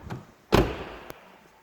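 A Porsche 911 with a GT3 body kit has its door shut in one solid, close thunk, preceded by a soft handling sound and followed by a small click.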